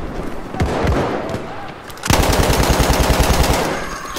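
Bursts of automatic fire from a BAR rifle in a trench-warfare video game, loud and close, start with scattered shots and then become a dense, rapid, continuous volley.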